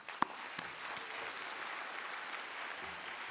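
A crowd applauds a graduating university class at a commencement ceremony, a faint, distant, sustained patter of clapping following one sharp nearby clap at the start.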